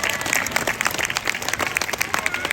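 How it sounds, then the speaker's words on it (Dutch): An audience claps for a whale and dolphin presentation at a Dutch dolphinarium, a dense crowd of hand claps rising and falling in uneven bursts, heard close and loud with no voice over it. "Dus nog een heel groot applaus voor de walvissen en de verzorgers."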